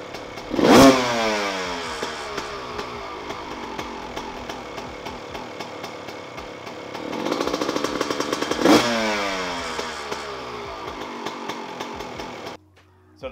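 A two-stroke dirt bike engine revs hard and shifts through the gears, its high buzzing pitch climbing in rising sweeps, with two sharp loud peaks, then cutting off abruptly near the end.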